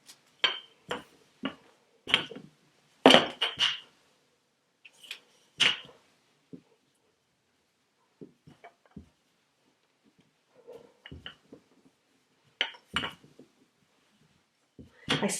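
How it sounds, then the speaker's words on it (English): Sugar cookie dough rolled out under wax paper with a rolling pin, a sprinkle of flour on the pin, to half an inch thick: scattered knocks, clunks and light clinks in short bursts separated by quiet pauses, close by. "I'm going to roll this out to a 1/2 inch thick"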